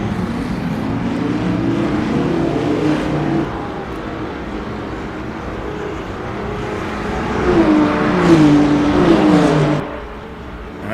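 Loud race car engines accelerating and revving in Le Mans Ultimate, with a Mercedes-AMG LMGT3 among the cars, giving a steady roaring drone that rises in pitch as they pull away, with no voices heard.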